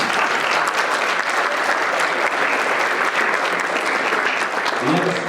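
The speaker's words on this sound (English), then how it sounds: "Let's give them a big round of applause." A reception audience at a World MS Day research event in Winnipeg gives a big round of applause, dense steady clapping filling the room loudly and continuously, with a few voices mixed in near the end.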